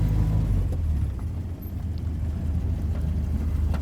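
A 1942 Willys MB slat-grille jeep driving along on cold, muddy Dutch roads, its engine a low, steady rumble close by, dipping briefly midway before settling back into a constant drone with some wind noise.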